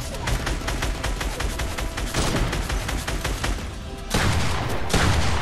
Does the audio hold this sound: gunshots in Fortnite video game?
yes